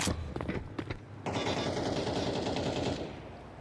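Rapid automatic gunfire in Counter-Strike 2 during a match at a major tournament; a few sharp single shots, then a dense sustained burst of fire lasting about two seconds, loud and close.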